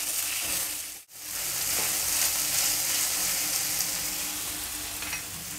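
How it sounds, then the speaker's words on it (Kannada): Carrots fry in a pan with a steady, broad hiss and crackle that drops out briefly for a moment, then carries on evenly without any voices. "ಕ್ಯಾರೆಟ್ ಈಗ ಸಾಕಷ್ಟು ಫ್ರೈ ಆಗಿದೆ."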